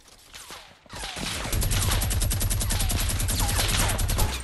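Rapid gunfire in Fortnite, a loud sustained burst of fast repeated shots like a minigun running several seconds after a brief softer lead-in, dense and close.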